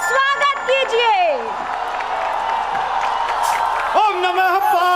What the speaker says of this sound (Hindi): जोरदार तालियों के साथ डॉक्टर कुमार विश्वास का स्टेज पर स्वागत कीजिए